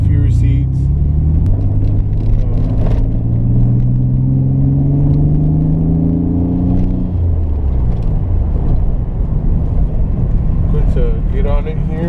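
An older Nissan 300ZX with a rebuilt engine idles and revs smoothly, its low steady hum rising and falling in pitch as the throttle is blipped, close and fairly loud, with someone talking partway through.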